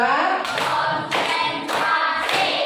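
A classroom group claps together in a patterned rhythmic chant, four bursts of massed hand claps spaced evenly, close and loud with no talking over them.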